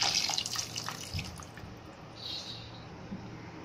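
Water poured into a pan of Chettinad chicken curry (kuzhambu), a soft, quiet splashing and trickling close by that fades into faint dripping.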